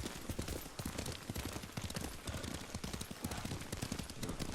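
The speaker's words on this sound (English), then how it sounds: "Lord Sakai taught me to ride a horse" Horse hooves from riding in the video game Ghost of Tsushima, a dense, rapid clatter of galloping beats that runs steadily throughout, fairly quiet and alone.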